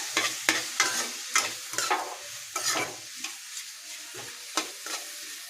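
Garlic and tomato are sautéed in a pan for a chapati kurma, with a low sizzle broken by a string of sharp, close scraping stirs at an irregular rhythm, and no voices.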